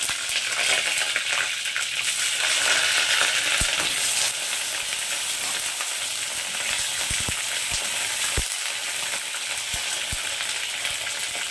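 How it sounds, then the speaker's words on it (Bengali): Pointed gourd (potol) pieces fry in hot oil in a kadai with a loud, continuous hiss and crackle, broken now and then by sharp spatters and the scrape of a spatula. "তেলটা গরম হয়ে গেছে, তো এবার পটলগুলোকে তেলের মধ্যে দিয়ে দিচ্ছি।"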